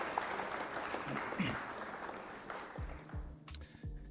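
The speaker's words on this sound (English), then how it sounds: "Round of applause." Scattered clapping from a small group, fairly quiet, with a few distinct claps and thumps near the end as it dies down.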